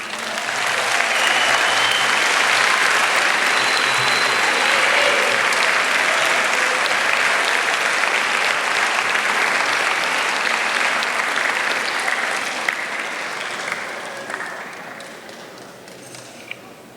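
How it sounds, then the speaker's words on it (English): A graduation audience at a high school ceremony bursts into long, loud sustained applause that fills the hall, holding steady before gradually thinning and fading toward the end. "please stand, turn, and give a round of applause and appreciation to the people who have helped you get to this moment"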